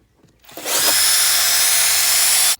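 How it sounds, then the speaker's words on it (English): A small power drill whirs up boring a small hole in plastic, running at a steady high-pitched whine for about two seconds, close and loud, then cuts off. "I'm just gonna quickly just drill a hole, small hole at the bottom of it"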